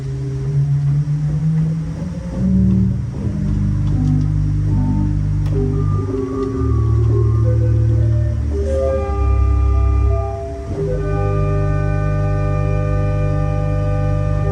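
Deep, sustained pipe organ tones from a 16-foot Bourdon stop, with a soft rumbling low register, a slow sequence of held notes that shift in pitch.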